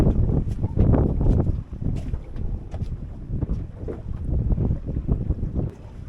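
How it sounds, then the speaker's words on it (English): Wind buffeting outdoors on a boat at sunset, a steady rough rumble of gusts across the microphone with faint water and hull movement underneath, continuous and fairly loud with no talking. "That little bit of wind's not a bad thing."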